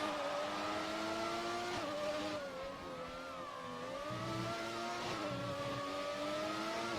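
Classic race cars roar around a track in a sim racing league game at the Canadian Grand Prix, engines droning continuously with pitch rising and falling through gear changes, loud and steady with no talk.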